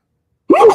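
A single short, sharp sneeze bursts out close by after a moment of silence.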